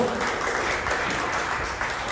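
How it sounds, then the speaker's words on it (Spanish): A church congregation applauds during a sermon on spiritual fatherhood, a steady wash of clapping heard from a distance for about two seconds, muffled and fairly faint. "Dame un aplauso al Señor"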